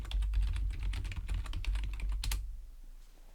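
Typing on a computer keyboard: a quick, close run of light key clicks for about two seconds, then silence.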